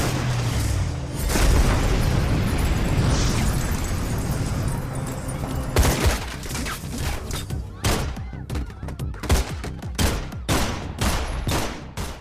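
An RPG rocket explosion in an action movie shootout, with loud booms and blasts inside dense gunfire. The barrage roars steadily at first, then breaks into sharp separate cracks and bursts near the end.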